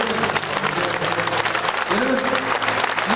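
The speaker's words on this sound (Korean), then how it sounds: "여러분 힘차게 크게 좀 박수" Church congregation applause during a ceremony honouring an elder with a gold medal, a loud continuous round of clapping that fills the room, with a voice rising briefly over it.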